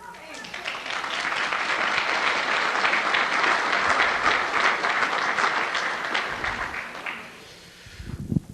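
Loud, dense audience applause swells and holds for about seven seconds before tapering off, with a voice breaking in near the end.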